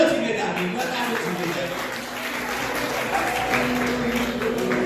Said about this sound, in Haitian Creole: Bon Dieu, on applaudit, mesdames.